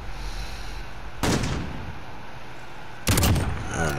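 Two loud, sharp gunshots in the Call of Duty Modern Warfare video game, the first near the middle and the second toward the end, each ringing out briefly over a steady background hum.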